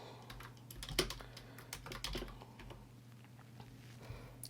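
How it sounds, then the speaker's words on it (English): Keys tapped on a computer keyboard in a quiet room, a brief run of soft close clicks with no talk. "I'm going to type paintbrush"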